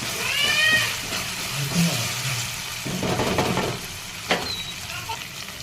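Chopped onions with two green chillies sizzling in a pan, a steady frying hiss with occasional stirring clatter and brief sharper clinks, fairly close, no voices.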